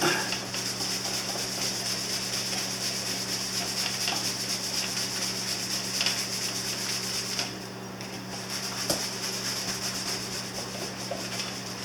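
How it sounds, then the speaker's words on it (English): Brush scrubbing Yamaha Virago 250 (XV250) motorcycle side covers during cleaning, a steady continuous rubbing hiss close by that pauses briefly midway, heard alone without speech. "Again, we're going to scrub it."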